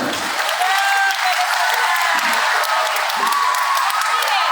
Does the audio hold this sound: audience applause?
yes